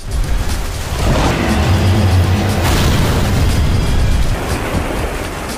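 A loud, rumbling gasoline tank explosion in a film rolls on for several seconds, deep booming energy mixed with broad roaring noise that slowly subsides.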